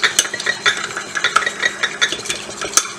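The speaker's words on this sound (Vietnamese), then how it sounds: "quả bên này mình sẽ đập lên. Đánh cho nó tan lên." Eggs being beaten to blend them in a bowl, with a quick run of irregular clinking and tapping strokes, close and fairly loud, and no voices.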